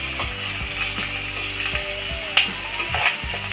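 Two onions frying in hot oil with curry leaves for a Marathi dry shrimp curry: a steady close crackle and sizzle with repeated scraping, ticking stirs across the pan.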